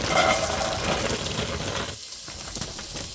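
Onions frying in butter in a pan give a close, steady sizzling hiss that briefly thins out midway, then picks back up, with no talking.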